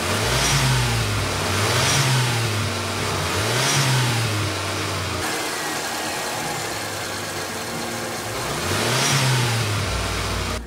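A mid-sized car engine on an older motor tuned by a custom ECU revs repeatedly, each blip rising in pitch and falling back to a steady idle, loud and close with no talk over it.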